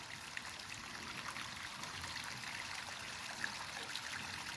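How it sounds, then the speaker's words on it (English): Air stones aerating a garden pond bubble and fizz in a constant, even wash of water noise, soft and unbroken, with no voices. "Air stones aerating the pond"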